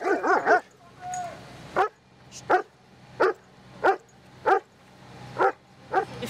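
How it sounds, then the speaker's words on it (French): A police dog handled by officers breaks up a crowd on a street in Mulhouse with a quick cluster of barks, then about seven sharp barks at a steady, roughly even pace, close and loud. "Hélène et Stéphane sortent alors leur chien pour disperser l'attroupement avant son arrivée."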